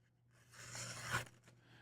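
A faint, brief scraping slice from a North Arm Skaha II knife with a Magnacut steel blade making an angled cut, a soft rasping swell that peaks sharply near the end, with low hum in the background.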